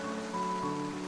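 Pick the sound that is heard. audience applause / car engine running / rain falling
rain falling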